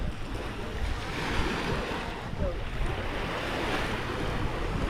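Calm ocean water washes gently at low tide on Mexico Beach, Florida, a steady soft surf hiss mixed with wind buffeting the microphone, no voices.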